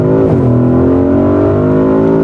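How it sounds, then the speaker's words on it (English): Porsche Cayenne Turbo Coupé in sport mode accelerating from 40 to 100 km/h, a loud steady engine drone whose pitch drops once at a gear change and then climbs smoothly, heard close from the cabin with no talking. "So now we can go from 40 kilometers to 100 in the sports mode."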